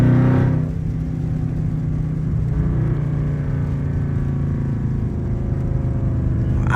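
A catless car engine rumbles loudly and steadily, revving and downshifting with a deep drone that holds throughout.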